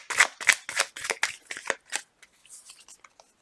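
Tarot cards shuffled by hand in a run of about eight crisp riffling bursts, close and fairly loud, then a scatter of lighter card taps and flicks trailing off, with no talk over it.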